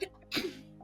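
A single sharp sneeze bursts out after a brief quiet moment, close and fairly loud, trailing off into a faint breathy tail.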